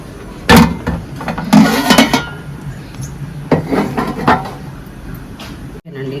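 A metal cooking pot set down on a home kitchen stove before making coconut milk rice: a few sharp clanks and knocks of cookware, spaced out over several seconds, close and fairly loud.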